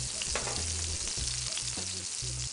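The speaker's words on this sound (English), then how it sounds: "Once you add the burgers to the hot pan" Chorizo burgers sizzle in a hot pan, giving a continuous, even frying hiss with faint low rumbling underneath.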